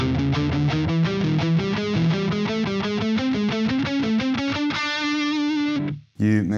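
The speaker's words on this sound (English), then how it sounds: "could be thought as a G pentatonic lick plus adding chromatic passing tones" Distorted electric guitar plays a fast G pentatonic lick with chromatic passing tones: a rapid run of picked notes ending on a sustained note, then a brief break before a final short strum.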